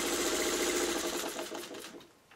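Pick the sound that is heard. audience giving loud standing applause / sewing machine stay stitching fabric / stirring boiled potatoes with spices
sewing machine stay stitching fabric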